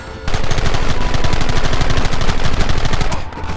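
Rapid, continuous gunfire in the Red Dead Redemption video game, a loud unbroken volley of shots running for several seconds with no voices.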